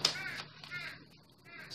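A crow caws a few times outdoors, a short run of harsh calls standing out near the start and recurring faintly against a quiet background.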